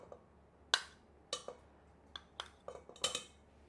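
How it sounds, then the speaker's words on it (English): Whisk striking the side of a mixing bowl while eggs, sugar and softened butter are whipped for a Finnish red currant cake, heard as sparse, faint clinks and taps at irregular intervals in a quiet kitchen. "And I'm gonna start whipping these up."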